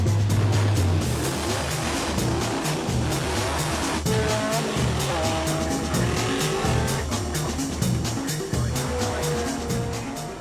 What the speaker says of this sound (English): She's a recreation of the 1959 Dino that Cliff Allison drove for the season with Ferrari.